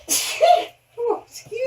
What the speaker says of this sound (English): that pepper's going to make me sneeze any moment now